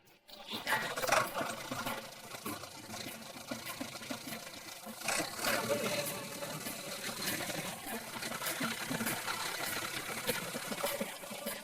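A tractor engine runs steadily, a loud mechanical chugging that holds for about twelve seconds in an ancient Tang-dynasty court setting, with faint voices beneath it.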